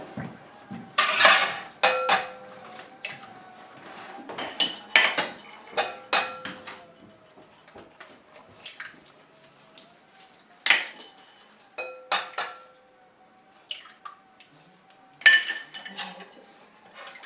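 Three eggs whisked in a bowl for homemade manicotti shells, heard as irregular bursts of clinking and tapping of utensil against bowl, with pauses between.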